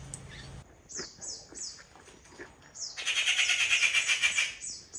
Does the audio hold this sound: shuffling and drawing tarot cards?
no